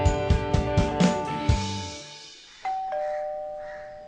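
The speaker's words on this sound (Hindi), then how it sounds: "दरवाजे पे घंटी बज गई।" A doorbell rings in a run of bright electronic chimes, followed by a held two-note ding-dong that fades out slowly, loud and close with no voices.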